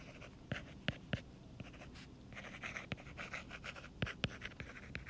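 Pen scratching on paper while writing numerals, close and quiet, with short strokes and sharp taps in irregular bursts, alone without talk.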